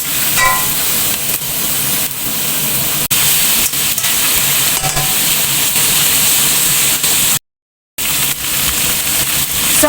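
Tofu frying in a pan with garlic and onion, a steady loud sizzle and hiss of hot oil that runs continuously, broken once by a short silent gap.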